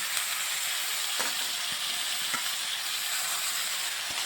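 Leafy greens, including telakucha leaves, sizzle in hot oil in a pan for a leafy vegetable chorchori. A steady close-up frying hiss runs throughout, broken by a few soft knocks and scrapes as the pan is stirred.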